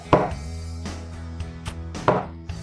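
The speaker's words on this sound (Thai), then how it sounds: "แตงกวานี่เราหั่นเป็นแบบ" Knife chopping cucumber into quarters on a board, three or four sharp, crisp chops spaced evenly apart, close and clear, with no talking.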